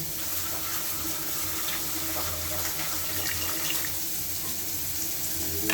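Kitchen tap water runs continuously into a sink while turmeric-dusted chicken pieces are rinsed, a steady close splashing gush with no talking.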